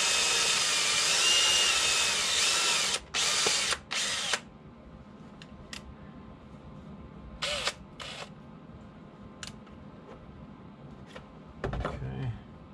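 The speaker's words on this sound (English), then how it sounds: "So let's go ahead and drill this out." Power drill boring out the heel base of a woman's Fluevog boot: a loud continuous high whine for about three seconds, then several short bursts and brief triggers amid quiet shop sounds and a voice.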